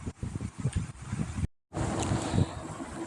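Gusty wind ahead of Cyclone Remal buffets the microphone in a rural Bengal village, producing low, rumbling bursts of roar with a sudden brief dropout midway before the blowing resumes.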